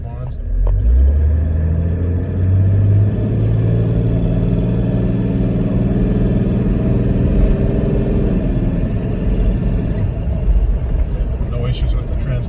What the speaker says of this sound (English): we'll accelerate a little more strongly here so you can hear how the transmission responds